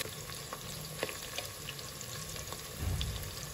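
Onions sizzling and frying in a pan for a veg dum biryani, a steady close crackle with occasional stirring clicks and a brief louder burst near the end, no talk.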